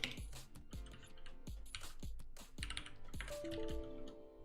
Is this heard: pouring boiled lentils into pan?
no